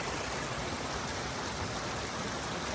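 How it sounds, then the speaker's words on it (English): Stream flowing near a trail campsite along the Pacific Crest Trail between Mammoth Lakes and Bishop: a steady, soft broadband rush of water running on without pause or talk. "The stream here."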